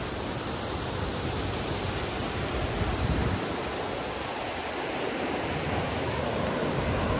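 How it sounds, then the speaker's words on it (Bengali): A hill stream pours down over rocks and flows away near a rock-pool picnic spot, a steady, full rushing hiss of falling water, close and continuous, with no voices. "এইটা এখান থেকে জল পড়ে ওদিকে চলে যাচ্ছে।"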